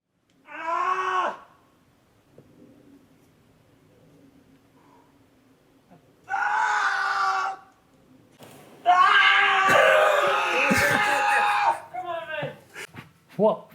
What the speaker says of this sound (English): we mean loudest power scream